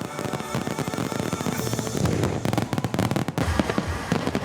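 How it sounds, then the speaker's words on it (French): Fireworks burst in the sky during a traditional display show, a dense run of loud cracking pops and booms in quick irregular succession, close and without talk. "Alors que les premiers feux éclatent dans le ciel"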